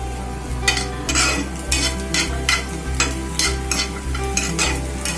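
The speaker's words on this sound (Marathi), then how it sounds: "म्हणजे हाय फ्लेमवर 1-2 मिनिटं फक्त आपल्याला परतून घ्यायचंय." Corn kernels sauté on a high flame, giving a bright continuous sizzle with repeated rhythmic scrapes of a spatula stirring through the pan, close up over a low steady hum.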